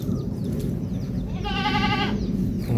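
One clear, drawn-out bleat from a goat at a livestock market rises midway through, close and fairly loud over a constant noisy farmyard background.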